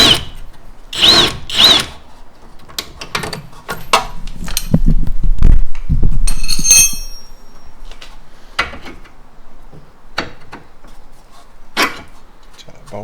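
Power tool working a suspension bolt loose on a Tesla, heard as several short bursts, a longer run of buzzing, and a few clicks and knocks.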